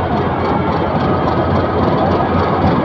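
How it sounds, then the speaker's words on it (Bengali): A 2314-series diesel locomotive rolls into a station platform to couple with the Titas Commuter train, its heavy low engine drone steady and loud throughout. "এই যে লোকোমোটিভটি স্টেশনের প্ল্যাটফর্মে প্রবেশ করছে।"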